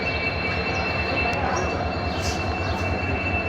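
A train at Dimapur railway station gives off a loud, steady rumble with a thin, constant high squeal running through it, all close by and without a break.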